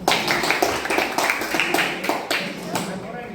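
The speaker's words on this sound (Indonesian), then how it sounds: "Tepuk tangan untuk kita semua." Several rounds of rhythmic clapping from a classroom group, sharp repeated claps in quick bursts, close and fairly loud, with voices mixed in.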